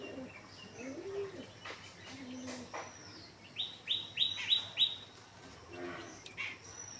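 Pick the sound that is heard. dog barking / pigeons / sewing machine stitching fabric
pigeons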